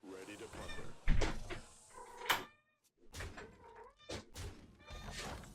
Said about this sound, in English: Okay, cat's back online too.